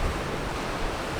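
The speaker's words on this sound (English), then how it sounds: "There's a fair bit of swell moving around and it's a little bit windy" Ocean swell washing into a coastal cove with wind, a steady broadband wash of surf and gusty air, close and continuous with no voices.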